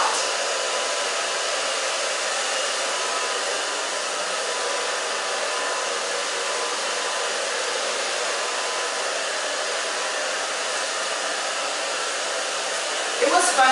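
A hair dryer set low blows continuously on curly hair in a salon, a steady, even whooshing roar that runs unbroken throughout, with a brief clatter at the end.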